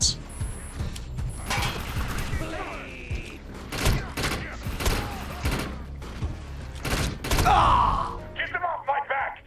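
Gunfire in the video game Defiance, rapid bursts of shots mixed with clanking mechanical game sounds and a busy action soundscape, with someone talking over it.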